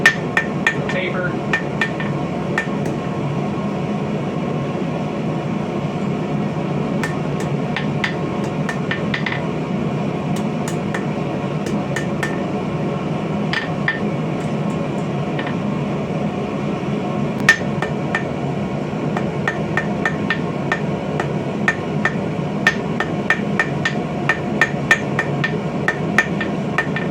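Steel is forged on an anvil to draw the end to a sharp point, with sharp hammer strikes ringing at irregular intervals over a steady background hum, some blows in quick bursts.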